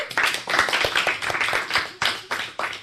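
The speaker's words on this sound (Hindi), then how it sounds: "तो बजाइए बच्चों ताली" Schoolchildren clapping together at a school programme, a dense run of brisk, loud claps close by, dipping briefly near the end before picking up again.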